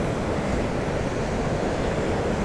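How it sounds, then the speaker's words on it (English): Foamy, erratic ocean waves break and swirl on a misty beach, a steady, dense wash of surf roaring continuously at close range with no voices. "It's just very foamy, and the waves are really erratic."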